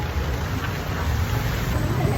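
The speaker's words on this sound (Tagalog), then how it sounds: "Panahon, umuulan pa rin" Steady rain falling outdoors during a fishing outing, a dense even hiss with low rumble and no distinct drops, constant and close throughout.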